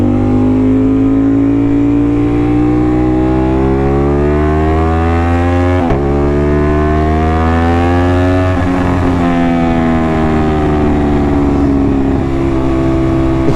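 Aprilia RS660 motorcycle fitted with an SC Project exhaust, ridden at night in cold weather: a loud, continuous engine drone that climbs and falls through the gears, with a sharp shift near the middle and no talking.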